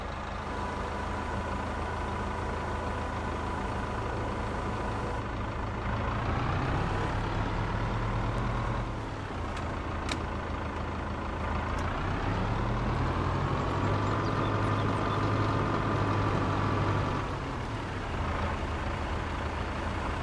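Heavy diesel wheel loader working as a log stacker in a logging video game, its engine droning steadily and rising and falling in pitch as it revs up and eases off, continuous and close with no talk.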